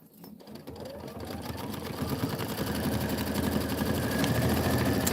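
An embroidery sewing machine stitching the placement line for a roof tile on linen fabric, running a steady, continuous rapid mechanical whir with fine needle ticking that grows slightly louder and holds evenly throughout.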